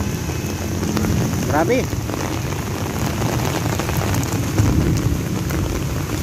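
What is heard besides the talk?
heavy rain falling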